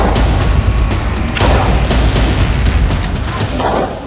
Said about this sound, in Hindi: अंधाधुंध गोलियां चलाई